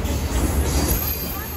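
A train at a railway station gives off a brief, steady, close rumbling roar of wheels and carriage noise with no pauses.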